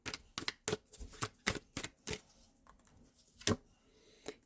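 Tarot cards being shuffled by hand, a run of crisp, irregular riffling snaps and taps close up, with short pauses between bursts and no talk.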